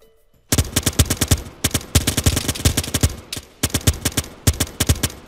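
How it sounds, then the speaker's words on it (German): Rifles in the military shooter ARMA 3 lay down suppressive fire, with loud, close bursts of rapid shots in several volleys broken by brief pauses. "Wir geben Sperrfeuer."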